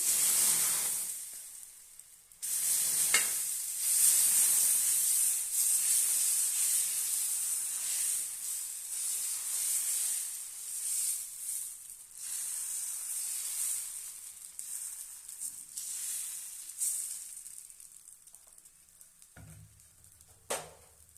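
Sorghum dosa batter hits a hot pan and sizzles loudly, a bright continuous hiss that swells and fades over about twenty seconds before dying to near quiet. No one speaks.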